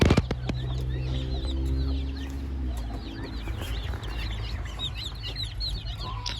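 Native Thai chickens cluck and chatter in a busy flock, with scattered higher calls and some wing flapping nearby, no talking.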